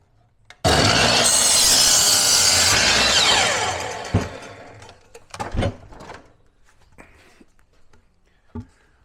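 A wooden 4x4 post is cut with a power saw for a pool-deck towel rack, giving a loud, sustained buzzing cut of about three seconds that fades as the blade winds down, followed by scattered knocks and thuds of the wood.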